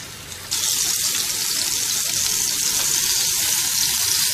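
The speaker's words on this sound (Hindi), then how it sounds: "हर तरफ से इनको फ्राई कर लेंगे" Mutton kebabs frying in one to two spoons of oil in a pan over the flame, a loud, dense sizzle that bursts up suddenly after a quiet half-second and then holds steady and close.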